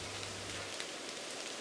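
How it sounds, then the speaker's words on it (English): Heavy rain pours in Manchester as a dense, steady hiss of drops close by. "Oh, it's raining stair rods in Manchester again."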